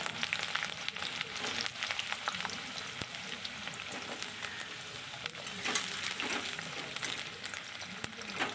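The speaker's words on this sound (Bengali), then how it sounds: "আলুগুলোও আমি সেম ওইভাবে ভেজে নেব" Potato pieces fry in a generous amount of oil, giving a moderate, continuous bubbling sizzle with occasional sharper pops and scraping clicks.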